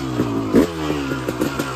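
A motorcycle engine started with no choke, caught and running close with uneven revving and rattly mechanical clatter, a couple of brief rev surges standing out.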